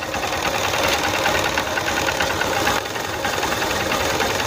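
A motorcycle engine runs steadily during a magnet coil voltage check, a close, buzzing mechanical idle with a rapid knocking rhythm that dips briefly near the end, no speech.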